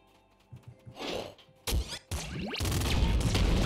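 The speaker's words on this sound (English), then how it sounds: "I think that's the sound of them picking cars." In the Nuclear Throne video game, robots pick up cars with a run of heavy metallic whacks and crashes, then a sustained loud, noisy rumble that builds to the end.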